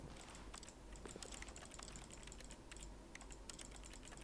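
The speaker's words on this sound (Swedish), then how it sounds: "Det klickar." Rapid mechanical clicks patter like keyboard keys, a dense run of small dry taps held low and quiet against faint background hiss in the Stanley Parable game.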